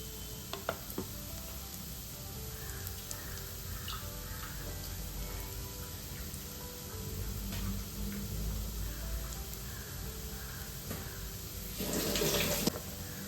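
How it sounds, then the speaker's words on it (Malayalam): Tamarind water is poured into a hot cooking pan of wilted vegetables. A steady sizzle and bubbling runs throughout, with a brighter splashing burst near the end. "അതിനകത്തേക്ക് ഞാൻ പുളിവെള്ളം ഒഴിച്ചു കൊടുക്കാം കേട്ടോ."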